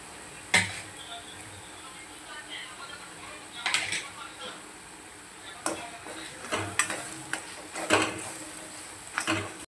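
Ground mung dal and spices stirred in a pan for kachori filling, with soft scraping and clinking strokes against a low frying hiss, the stirring coming in irregular bursts.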